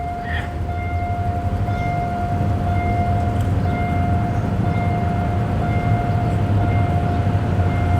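A Hitachi train nears a railroad crossing in Thailand, heard as a steady low rumble of rolling stock with a sustained high warning tone held throughout, close and loud without pause, no voices.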